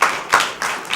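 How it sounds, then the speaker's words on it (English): Crowd clapping for a contestant at a Bible quiz competition, a steady burst of applause with swelling surges across the short moment. "a big round of applause for multiple reasons"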